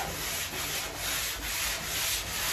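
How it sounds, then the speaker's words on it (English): Steady, rhythmic scratchy rubbing of a hand block sanding body filler, close up, with strokes repeating about every half second and no talking. "keep sanding until you start seeing them spots pop up"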